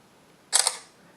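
A Samsung Galaxy Note 4 camera fires one quick, crisp shutter click, close and alone against faint room hiss.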